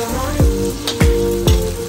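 An onion and chili mixture fries in a pan with a constant sizzle, broken by three quick scraping stirs at a steady pace, close and clear with no talking.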